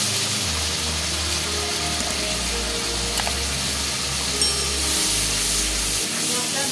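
A ground spice paste goes into hot oil for a fish curry, giving a steady close sizzle with a low bubbling hiss throughout, while a voice talks over it.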